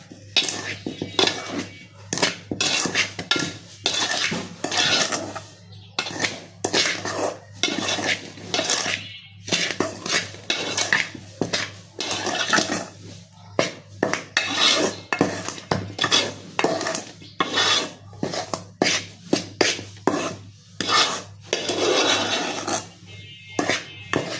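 A metal spoon stirs sugar and jaggery together in a bowl, a long run of repeated clinks and scraping taps in an uneven rhythm, close by, with some brief talking in between.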